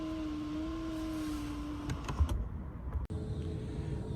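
Electric sliding glass sunroof on a BMW 225i opening: a steady motor whine runs for about two seconds, then a few soft clicks and a sharp thunk as it stops, all close up inside the cabin.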